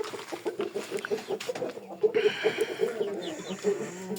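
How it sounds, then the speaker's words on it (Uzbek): Japanese shamo chickens clucking in short, repeated bursts close by, with someone talking over and between the clucks. "Mana bu tovuq yapon tovuq, mana bu yapon shamo tovuq."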